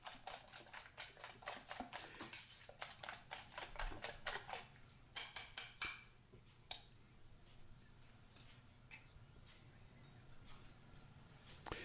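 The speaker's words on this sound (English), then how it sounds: "It's a little bit of whisking," Crepe batter being whisked in a bowl, rapid rhythmic ticking strokes against the bowl, quiet and close, slowing into sparser taps toward the end.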